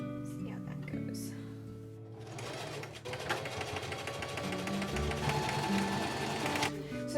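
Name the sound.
sewing machine stitching overalls fabric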